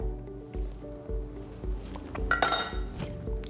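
A spoon clinks against dishes and a bowl of kale walnut pesto in a kitchen, several sharp close metallic taps and rattles, with a muffled rhythmic thumping beneath.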